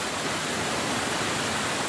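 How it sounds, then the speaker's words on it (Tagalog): Strong flooded river rushes in a dense, steady roar of floodwater, loud and close, with no talking over it. "Ang lakas na guys ang ilog dito guys."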